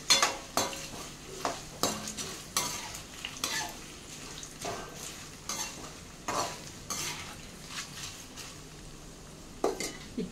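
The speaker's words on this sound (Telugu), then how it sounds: "ఇప్పుడు పుట్నాలు వేసేసుకుంటున్నాను" Roasted gram is stirred in hot oil with curry leaves, a metal spoon scraping and clinking against the pan in repeated uneven strokes over a soft, faint sizzle.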